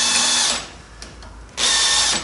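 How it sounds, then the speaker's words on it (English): A power drill bores holes into a wooden block in a workshop, two loud whirring bursts split by a quieter pause, close and alone. "do the same by drilling holes"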